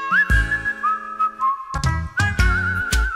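Melodic human whistling by a professional Bollywood film-song whistler, clear and close, with sustained pitched phrases that slide between notes, broken by a couple of short pauses.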